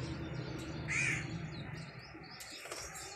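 A pair of pet parrots gives one short, harsh call that stands out briefly over steady room noise, followed later by a few faint clicks and rustles.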